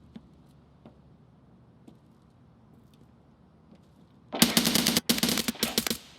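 Escape From Tarkov gunfire: after a quiet stretch with faint distant pops, a close, loud burst of automatic fire erupts, broken by two brief gaps, with no talking.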